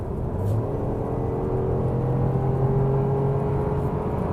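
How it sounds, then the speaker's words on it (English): A BMW X1 25e xDrive plug-in hybrid accelerates from 100 to 120 km/h, giving a steady low engine drone and road rumble heard from inside the car, rising gently in pitch. "here, for example, we can do the acceleration when we're already at speed 100 to 120"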